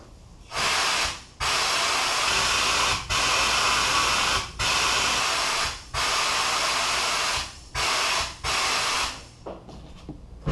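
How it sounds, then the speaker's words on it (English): Compressed air blasts through the clogged drain hose of an old BMW E30 during floorpan rust repair, a loud close hiss in about seven long bursts separated by short pauses. "We're gonna go ahead and put the air hose in the top and see what comes out of there."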